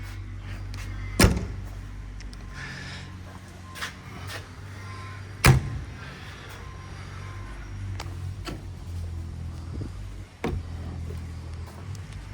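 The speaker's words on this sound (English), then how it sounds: "So we got an upgraded door latch here." Door latch on the cab of a Summitt Earthworks 6MCR excavator clicking and thudding, two sharp knocks among softer clunks over a steady low mechanical hum, close, no talk.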